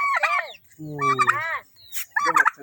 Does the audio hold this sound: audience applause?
no